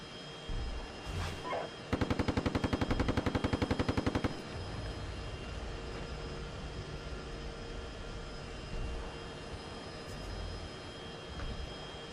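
Machine gun fire in the tank simulator Steel Beasts Pro PE, a fast, evenly spaced burst of about two seconds, loud and close, over a steady engine drone, with a few faint thumps afterward.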